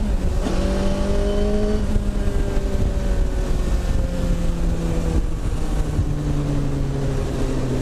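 A car fitted with a first-generation Suzuki Hayabusa motorcycle engine roars loudly as it accelerates, its rising engine note dropping sharply at each clutchless gear shift before climbing again, with wind rush throughout.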